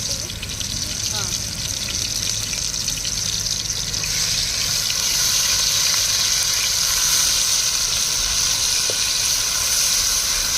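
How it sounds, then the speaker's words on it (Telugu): Hand-ground onion paste mixed with spices fries in hot oil over a wood-fired stove, a loud steady sizzle that swells partway through and runs continuously with faint clinks. "ఈ ఉల్లిపాయ ముద్ద కూడా పచ్చి వాసన పోయే వరకు ఫ్రై చేసుకోవాలి."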